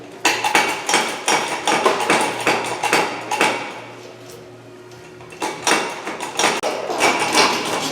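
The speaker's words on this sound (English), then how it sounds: "Need a bigger hammer." Repeated heavy hammer blows ring out on metal while driving out tight pins, in quick bursts, loud and close, with a brief lull midway before the striking resumes.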